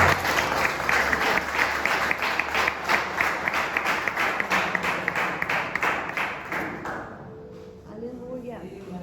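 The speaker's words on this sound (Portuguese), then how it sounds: "Você pode aplaudir o Senhor?" A church conference congregation claps hard and steadily for about seven seconds, then the applause fades out as a voice rises over it.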